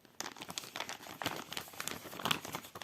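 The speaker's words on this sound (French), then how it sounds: "Donc on va ouvrir notre sachet." Plastic packet of cross-stitch or diamond-painting craft supplies being opened, a close run of crinkling and crackling with small tearing bursts, no talk.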